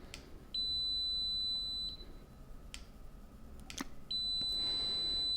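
A Kaiweets ST600Y digital multimeter in continuity mode gives two sustained, high-pitched electronic beeps, each lasting over a second and separated by a short gap with light handling clicks, heard up close.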